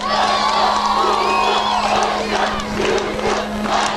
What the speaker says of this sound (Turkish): Şimdi Yusuf Başkan diye bağırıyorsunuz ya, birileri yanlış anlayacak